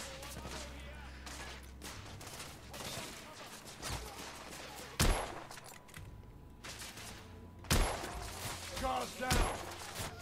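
Gunfire in The Order: 1886 during a suppressive-fire exchange: bursts of shots with several sharp, loud cracks standing out over a busy background, with speech mixed in.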